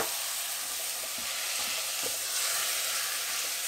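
Lamb mince hitting a hot pan and frying, a loud steady sizzle close up with a few soft scrapes and stirs.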